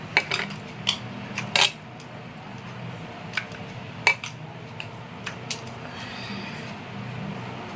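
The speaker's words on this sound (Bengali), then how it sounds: "আমি এখন সাবু মাখছি।" Soaked sago being mixed by hand in a metal bowl at a home puja, with scattered clinks and taps of utensils against the bowl over a quiet background hum.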